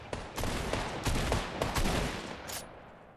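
Gunfire in the video game Fortnite crackles in a rapid run of sharp shots over about three seconds, steady and fairly dense, alone without talk.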